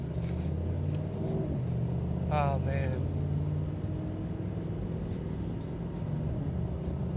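A 2025 Mercedes-AMG GT63 Coupe's deep, steady exhaust rumble idles throughout, with a brief rising rev partway through and a man's short exclamation over it.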